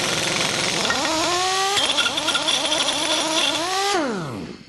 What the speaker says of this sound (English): then use an impact wrench